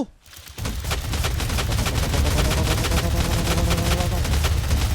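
Sustained automatic machine gun fire in the video game Teardown, a dense, loud, continuous burst of rapid shots starting abruptly after a brief quiet moment and running unbroken to the end.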